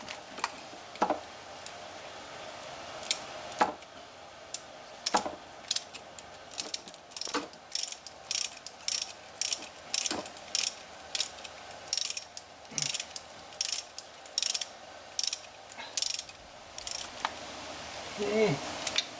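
A ratchet tightens bolts while a knock sensor is replaced on a Toyota Sienna, giving short bursts of sharp, close clicking, repeated many times with brief pauses between strokes.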